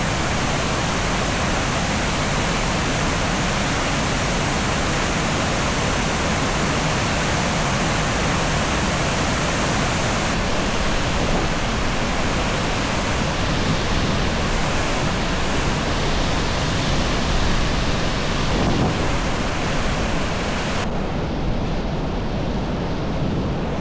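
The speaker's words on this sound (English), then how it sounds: "Giant waterfall right here in town." Ithaca Falls roars as a giant waterfall right in town, a dense, unbroken wash of rushing water heard close and loud throughout, with some wind buffeting the microphone.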